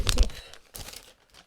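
Scissors snip a small piece off a Christmas card cutout, giving a few short, close paper crunches and crinkles.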